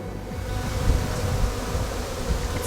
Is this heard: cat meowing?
no